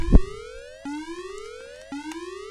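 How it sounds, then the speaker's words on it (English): A synthetic siren tone in the video game The Guardian Legend sweeps upward three times in a steady repeating cycle, loud and close, after a brief thump at the start. "And the siren."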